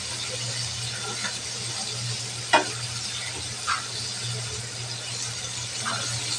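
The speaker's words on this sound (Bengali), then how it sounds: "মাছটা একবার ভাজা হয়ে গেছে, উল্টিয়ে নেব।" Hilsa fish frying in hot oil, a steady dense sizzle running throughout with a couple of sharp clinks and scrapes from stirring or turning, close and fairly loud.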